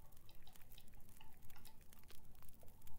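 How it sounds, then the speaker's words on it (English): Water being drunk in The Long Dark survival game, a quick run of wet dripping, sloshing sounds packed tightly together over a few seconds. "We will drink the water we have in our inventory."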